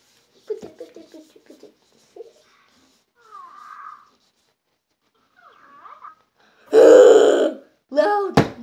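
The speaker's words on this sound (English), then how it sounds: "Guys, my Hatchimal farted." A Hatchimal electronic toy lets out a loud, buzzy fart noise near the end, after a few quieter chirps and toy sounds, followed by a brief squeaky sound.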